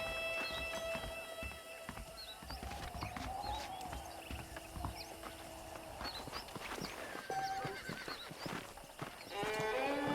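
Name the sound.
saddled horses, from video game Red Dead Redemption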